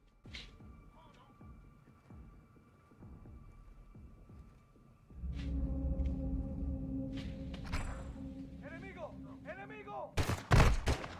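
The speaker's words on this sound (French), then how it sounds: "Le coup de feu les a alertés." A sharp gunshot rings out amid humming game ambience inside a house in Call of Duty: Modern Warfare 2, followed by a burst of loud electronic effects near the end; voices speak briefly.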